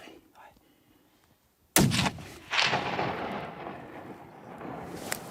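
A single loud gunshot from a hunting rifle or shotgun fired outdoors at game, a sharp close blast followed by a long rolling echo, with brief voices before and a faint thud later.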